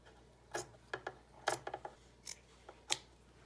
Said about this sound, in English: we need to trim that. So from here to here, we're gonna cut off there, and cut off there